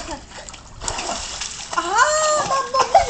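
A child splashes water during a swimming lesson, with close, continuous sloshing and splatter, while an adult speaks and a voice rises over the water toward the end.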